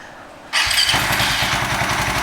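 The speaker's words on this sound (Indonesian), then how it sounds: "Oke, ini kita start ya, kita nyalakan." A Suzuki Satria FU 150 fuel-injected motorcycle fitted with an Ataka ECU starts up after a half-second of quiet, then settles into a loud, close, steady idle with a rapid pulsing beat.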